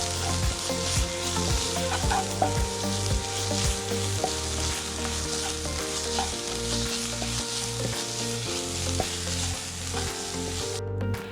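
Spice powders sautéing in a pan for an aloo stuffed chapathi filling give a steady frying sizzle with a few stirring scrapes, close and continuous the whole time, and nobody speaks over it.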